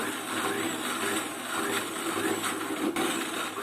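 An electric blender pulses a thick, creamy egg mayonnaise of raw egg and oil, a steady close whirring drone with a brief dip partway through and no voices.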